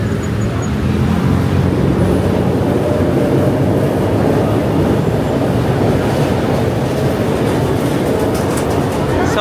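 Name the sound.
LRT light rail train passing in Quiapo, Manila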